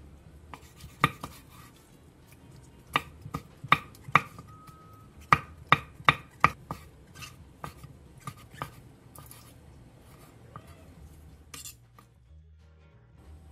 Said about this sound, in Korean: 묵은지 4분의 1 포기를 쫑쫑 썰어주고